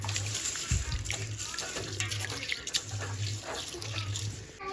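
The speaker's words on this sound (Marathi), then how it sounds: "उन्हाळा लागलाय त्यामुळे झाडांना पाणी द्यावं लागतं." Water runs and splashes from a tap for watering garden plants such as hibiscus in summer, a continuous close splattering stream over a low pulsing hum.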